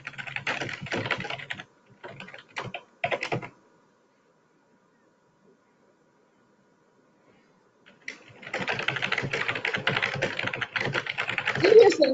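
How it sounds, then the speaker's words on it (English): Loud clacking keystrokes on a computer keyboard come through an open microphone during an online webinar, rapid clattering bursts for a few seconds, then a long silence before steady, dense typing resumes and grows louder. "I hear some loud typing"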